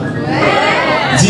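A crowd at a slam poetry night shouts a brief, loud collective "yeah" in unison, a single burst of voices lasting just over a second.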